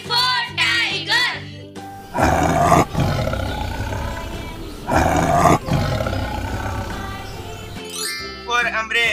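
Big roaring cat sounds in a children's phonics song about a tiger, loud sustained roars layered over music, with sung or spoken voices around them.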